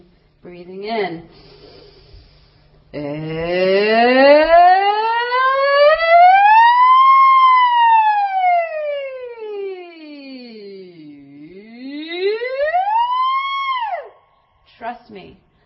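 A person warming up the voice imitates a siren, sliding in one long smooth rise and fall and then rising again, loud and close, with short breaths before and after.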